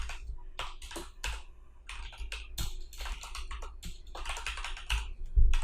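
Fast, uneven keystrokes of code being typed on a computer keyboard, a close run of crisp clicks in short bursts with small pauses, and no talking.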